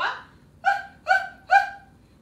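Children's voices imitate a small puppy dog barking, giving three short, bright yips in an even rhythm during a kids' yoga class, with no other talk.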